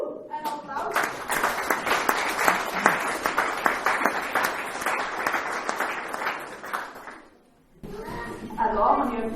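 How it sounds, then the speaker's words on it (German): Salvation Army church congregation applauding during a worship service, loud rhythmic clapping for about seven seconds that halts abruptly, followed by a voice speaking. "ein Applaus"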